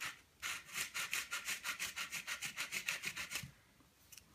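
Wood being sanded by hand, about twenty quick, even back-and-forth rubbing strokes close up, then stopping abruptly with a faint touch afterward.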